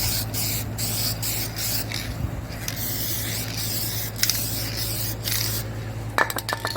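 Spray paint hisses in repeated bursts while coating a car's carpet, short sprays separated by brief pauses, close and fairly loud over a steady low hum.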